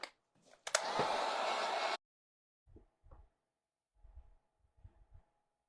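A hair dryer blasts steadily on wet paint for about a second before cutting off, followed by a few soft knocks and thuds.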